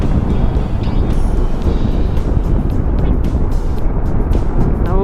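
Strong wind roars and buffets a microphone on a moving QJ Motor Fortress 400 maxi scooter, a loud continuous rush with low rumbling gusts throughout.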